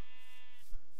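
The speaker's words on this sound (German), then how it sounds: "Schafe! Schwarze Schafe." A single sheep in the video game Minecraft gives a short, wavering bleat, clear and close, against a quiet game background.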